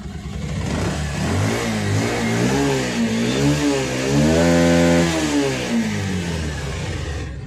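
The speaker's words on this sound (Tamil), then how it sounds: "இப்போ கூட வண்டியை வந்து ஸ்டார்ட் பண்ணி காமிக்கிறேன். இப்போ பார்த்தா தெரியும், வண்டி வந்து ரன்னிங்கில் தான் இருக்குது." A Bajaj Pulsar 125 BS6 motorcycle converted to a carburetor runs close by, its engine note rising and falling through repeated revs and settling back near idle, loud and steady with no talk.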